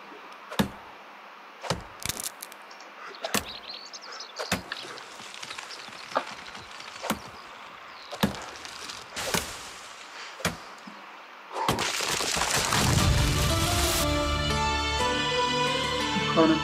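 Tree chopping in the medieval survival game Medieval Dynasty: a steady series of sharp, loud axe thunks on wood at roughly one-second intervals, followed by a louder crashing burst as the tree falls.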